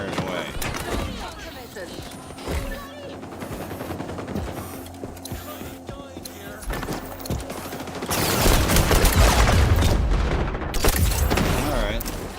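Shooter game firefight with rapid sustained automatic gunfire and booming blasts throughout, growing louder and denser toward the end, with someone talking over it.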